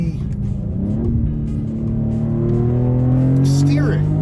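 A 2024 Maserati GranTurismo Trofeo engine revving and accelerating up through the rev range, a rising, prominent rumble heard under a person talking.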